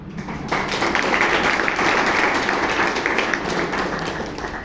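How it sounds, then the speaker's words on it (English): Applause from a Toastmasters club meeting audience in Bangalore starts abruptly and continues as a dense, steady wash of clapping, tapering slightly at the close. "would request you all to welcome them with the thunderous applause"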